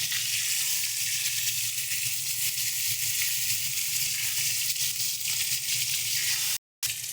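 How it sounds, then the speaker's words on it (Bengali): Hilsa fish head frying in hot oil, a steady close sizzle and crackle running throughout, broken by a brief silent gap near the end, with no talking. "এবার আমরা মাছটাকে এখানে দিয়ে দেবো। মাথাটাকে আমরা হালকা করে একটু ভেজে নিচ্ছি"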